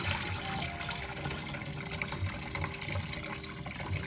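Raw sea moss being rinsed in water, a steady close splashing and trickling with soft swishing and occasional light thumps, no talking.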